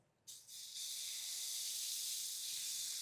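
Moong dal and jowar flour dosa batter meets a hot tawa with a sudden, loud hiss that settles into a steady, bright sizzle.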